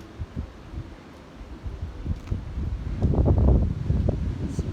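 Wind gusting across a mountain trail above the clouds in Georgia's Appalachian Trail section, a steady low rumble of microphone buffeting that swells louder and rougher in the second half, with no voices.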